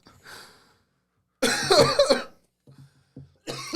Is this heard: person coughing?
yes